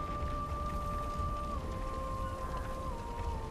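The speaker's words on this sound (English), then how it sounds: "Like here I can see it's raining." Rain falls in the video game Expedition 33 as a soft, steady patter under sustained tonal notes that hold and then shift slightly partway through.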